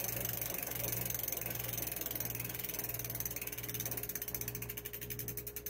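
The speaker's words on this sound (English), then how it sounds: "Just a quick revolution of the crank and it was going 12 miles an hour." A converted e-bike with a conversion kit spins its crank, its freewheel giving a steady fast ratcheting whir, close and continuous, that speeds into a clearer clicking toward the end.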